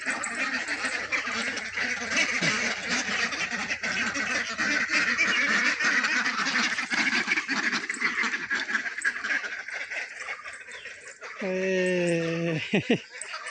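A flock of ducks quacks and honks continuously nearby, loud and busy, with one clear drawn-out quack standing out near the end.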